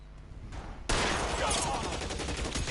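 Gunfire in the video game L.A. Noire, a sudden loud burst of rapid shots that continues densely for about two seconds, over a faint background of game sound.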